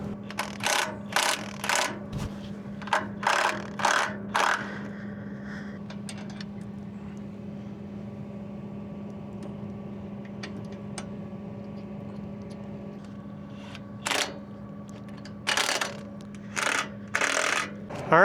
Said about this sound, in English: So just gotta loosen up that top shear bolt, drop the knife back down, and I'll put a new shear bolt in the bottom.